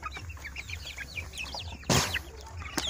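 Crossbred Joper chickens cluck and chirp in short, repeated calls close by, interrupted by a brief burst of flapping wings partway through.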